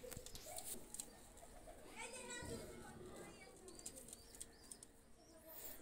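A pair of Jansera teddy pigeons coo softly with a brief flutter of wings, close by, beneath someone talking throughout.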